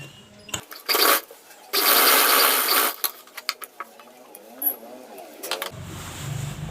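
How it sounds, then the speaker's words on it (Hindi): A sewing machine stitching the lining of an Assamese mekhela chador, loud whirring bursts of stitching broken by gaps, short clicks and handling noises. "तो यहाँ पर हम और एक सिलाई लगा देंगे"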